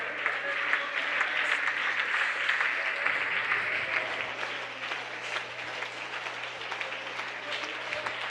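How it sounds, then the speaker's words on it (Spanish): A church congregation applauds during a worship service, a fairly distant, steady wash of clapping with a low hum beneath it, lasting throughout. "un aplauso para la gloria de Dios."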